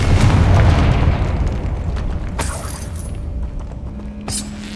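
A deep booming blast from the Confringo fire spell in Hogwarts Legacy, loud at first and rumbling away into a long fading tail, followed by a few sharp clicks and a brief high swish.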